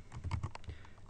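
Fingers type on a computer keyboard in a quick run of soft, close key clicks, then slow to a few scattered taps in a quiet room.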